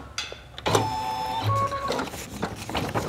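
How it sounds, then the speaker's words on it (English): An embroidery machine stitching a design, starting with a mechanical whir and then settling into a steady motorized hum with tonal whine and rapid rhythmic needle ticking, close and fairly loud, with no talking. "we're just going to let it embroider"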